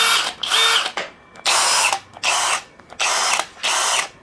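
A Dongcheng DCJZ03-13EM hammer drill runs in about seven loud, harsh bursts of roughly half a second each, close up and separated by short gaps, with no talking.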